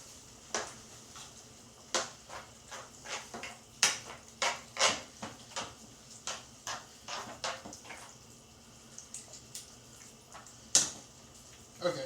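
A utensil stirs spaghetti sauce in a pan on the stove, a steady series of soft scrapes and clinks against the metal roughly every half second, close by and moderately quiet.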